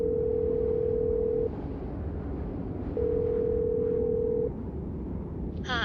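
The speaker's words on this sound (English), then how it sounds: "My hands are shaking as I dial 911." A telephone line tone sounds as long, steady beeps that switch on and off in an even rhythm, clear and close, with a brief tonal burst at the very end as a number is dialled.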